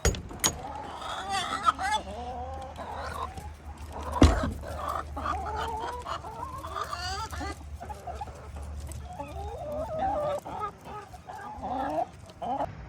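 Backyard chickens cluck and squawk in a loose, continuous chatter throughout, moderately close, with a sharp knock partway through and some faint background noise beneath.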